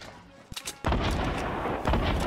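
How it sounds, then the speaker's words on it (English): Grenades exploding in a tunnel during a video game, with a couple of sharp pops followed by a heavy, sustained blast and rumble, then a second surge near the end, loud and dense. "I'm gonna light it up with grenades."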